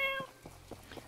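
A cat in the video game My Time at Portia gives a few short, quiet meows in quick succession after a brief tonal chime.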